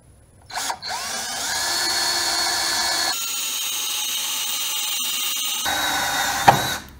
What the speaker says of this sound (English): this will actually be long enough to drill straight down and make a small pilot hole